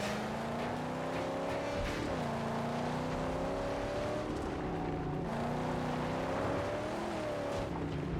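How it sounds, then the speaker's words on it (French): A car in the Mad Max video game churns through thick mud, its engine droning steadily with rising and falling pitch sweeps, loud and continuous with no talking. "Oh, la voiture, elle avance plus dans la glaise."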